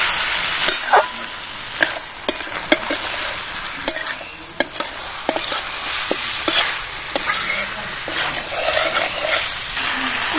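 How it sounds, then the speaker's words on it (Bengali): Cauliflower and fried potatoes sauté with spices in a pan, giving a steady sizzle broken by frequent sharp clacks of a spoon stirring against the pot. "এবার ফুলকপি ভাজা আলুগুলো দিয়ে দেবো সব কিছু ভালোভাবে পাঁচ মিনিট কষিয়ে নেবো"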